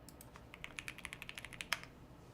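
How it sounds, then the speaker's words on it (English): Typing on a Bubble 75 mechanical keyboard with Aqua King switches: a quick run of crisp, close keystrokes at an even pace, ending in one louder clack before falling quiet. "This keyboard sounds beautiful."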